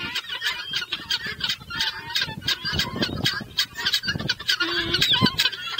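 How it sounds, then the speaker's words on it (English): Guinea fowl give harsh, repeated honking calls in a fast, uneven stream, loud and close, with several birds overlapping. "not seagull, it's actually a guinea fowl."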